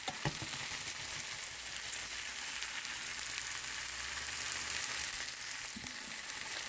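Tenderloin steaks with cilantro and garlic sizzle steadily in a hot pan, a dense continuous fry with a few sharper crackles and soft clatter as the meat is turned, with no talking.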